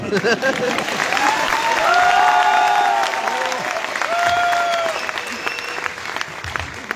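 A live audience at a Hindi motivational talk breaks into loud, sustained applause with some cheering, a dense wash of clapping that swells and then slowly tapers off.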